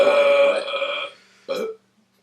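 A loud, drawn-out human burp during a casual podcast, a long rumbling belch followed after a short pause by a second brief, gurgling one, close to the microphone with no talk.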